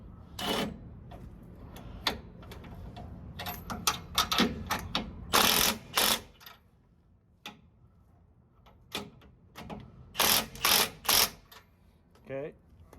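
Bolts being tightened on a 2006 Toyota Tacoma leaf spring, with a string of sharp mechanical clicks and ratcheting bursts, some in quick clusters, close by and fairly loud over a low background hum.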